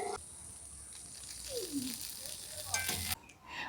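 Boondi drops frying in hot oil give a steady soft sizzle, with a few stirring scrapes and a brief clatter near the end before the sound cuts off.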